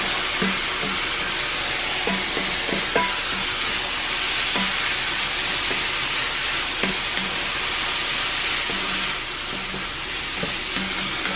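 Sauce poured into Spam, mushrooms and noodles frying in a cast iron pan, a steady loud sizzle with scattered clinks and stirring scrapes, close up.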